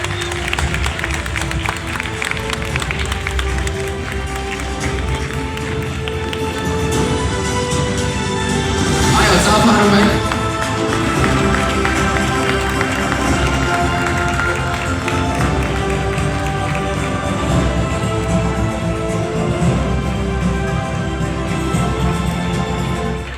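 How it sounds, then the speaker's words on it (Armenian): An audience at a stage event applauding, a dense, steady wash of clapping from a crowd that swells slightly midway and continues throughout, with voices mixed in. "ձեր բարձր ծափահարությունները"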